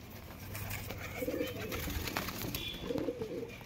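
Punjabi pigeons coo in a loft. Two distinct low coo phrases rise at moderate loudness, one early and one near the end, over faint background noise.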